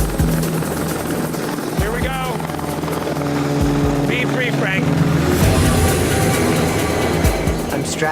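Loud, close helicopter rotor thrum fills the scene continuously while strapped in beside an open doorway, with voices speaking over the heavy drone.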